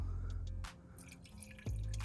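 Liquid poured into a 2007 Suburban during a DOD delete plate job, heard as soft dripping and splashing over a low rumble, fairly quiet, with no one speaking.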